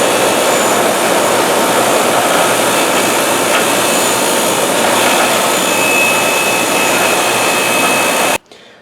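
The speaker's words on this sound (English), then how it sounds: "So I'm going to wire wheel this bitch." A wire wheel scrubs the timing marks on a Ford Focus engine with a loud, steady, continuous whirring grind that cuts off abruptly near the end.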